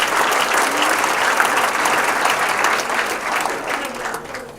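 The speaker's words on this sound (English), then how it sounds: "Clapping." An awards ceremony audience at a university water conference claps steadily, a dense even burst of applause that fades slightly toward the end.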